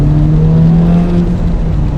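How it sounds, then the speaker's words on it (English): A 2025 Acura Integra Type S accelerates with a steady, throaty exhaust drone and a rising engine hum, loud and continuous from inside the car, with no talking. "it's a little bit throatier exhaust, a little stiffer, a little different mapping"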